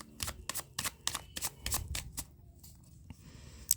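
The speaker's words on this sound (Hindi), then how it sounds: "Last shuffle." Tarot cards are shuffled in a quick series of crisp riffling bursts, about eight in a row, then a pause with a couple of fainter flicks near the end.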